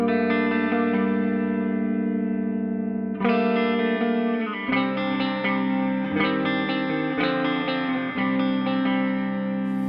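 A 2017 Korean-built PRS SE Mark Holcomb electric guitar plays sustained clean-toned chords with effects, ringing notes changing every second or two and played up close with no talking.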